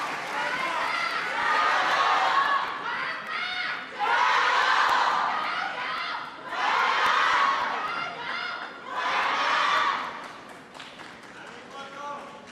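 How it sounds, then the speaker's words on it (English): Table tennis crowd at a women's singles semifinal cheering and shouting loudly in four big surges, each swell rising and then easing back to a lower murmur. "This crowd are going to have sore throats by the end of this one."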